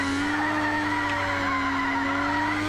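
Tires squeal steadily as a car drifts through a corner in a cheap PC racing game, a sustained screech over a constant engine drone with no breaks.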